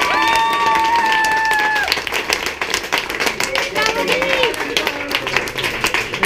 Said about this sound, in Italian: all'applauso a loro che organizzano questa gara bellissima